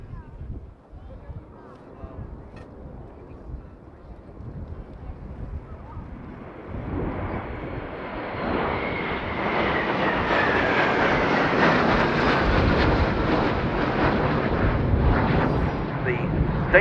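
A military jet formation, led by a Danish aircraft, sweeps past at an air tattoo, a rumbling roar swelling from distance to a loud, sustained pass with a whining tone, while a commentator talks over it.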